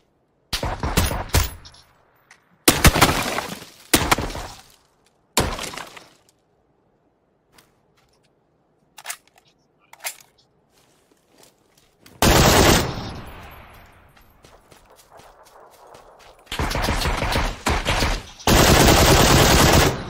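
Gunfire in the video game PUBG: several loud automatic bursts and single shots at close range, separated by quiet gaps, with long sustained volleys toward the end.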